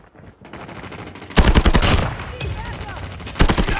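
Pistol shots crack in a video game, with a loud burst of rapid shots, a fading tail, then another sharp volley after a quieter lead-in.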